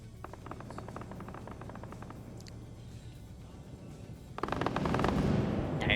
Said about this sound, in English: Now you're hearing that Tigris engage.